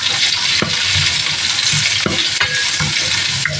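Thinly sliced beef bulgogi stir-frying with mushrooms in a hot pan, a loud continuous sizzle broken by repeated spatula scrapes and stirring knocks, close up with no talking.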